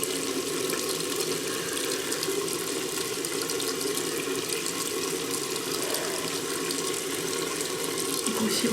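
Hot water runs from a tap in a steady, loud, close rush that barely changes for the whole stretch, with a faint clatter near the end.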